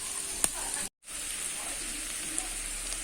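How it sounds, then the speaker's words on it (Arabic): Onions sizzle in melted butter in a pan, giving a steady, fairly loud hiss with a couple of sharp pops and a brief cut to silence near the start. "هنزل بالبصل وهدبله"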